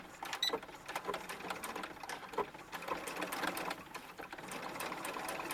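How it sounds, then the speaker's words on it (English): A sewing machine stitches a 1/4 inch seam in fabric for a small doll bustier, its steady mechanical whir running close and continuous with small pauses and a few clicks. "So we're going to line up that fabric, and again sewing a 1/4 inch seam"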